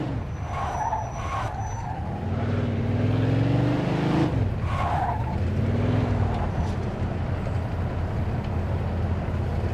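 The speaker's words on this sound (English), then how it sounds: "Drive through the gate and into the yard." A car is driven through a gate into a yard in Mafia II Definitive Edition, with a loud, close engine revving and shifting and brief tyre squeals.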